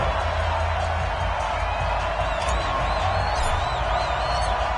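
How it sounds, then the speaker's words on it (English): A stadium crowd in an EA Sports NFL game between the Seattle Seahawks and the Pittsburgh Steelers roars steadily and loudly, a dense continuous wash of cheering with faint whistles and voices over it. "This crowd is ready as their guys get set to match up between the Seattle Seahawks and the Pittsburgh Steelers."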